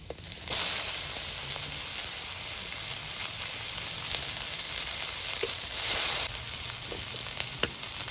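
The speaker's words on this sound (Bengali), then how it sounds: "রসুনটা একটু বাজা ভাজা হয়ে আসছে দিয়ে দিচ্ছি পেঁয়াজ কুচি" Chopped onion and garlic sizzle hard in hot oil, a dense continuous frying hiss with occasional stirring clicks and a surge midway.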